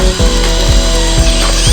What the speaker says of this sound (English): So I got to drill through the new bracket into the mast.